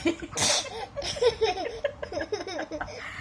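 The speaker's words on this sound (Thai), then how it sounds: "แล้วจามใส่ขนมซะด้วยสิเนี่ย" A person gives one sharp, noisy sneeze onto a snack, followed by a run of short, bubbly laugh-like vocal bursts at close range.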